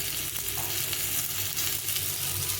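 Potato and tomato fry in a pan with salt, turmeric, cumin powder and chilli powder, giving a continuous close sizzle with faint stirring and no voices.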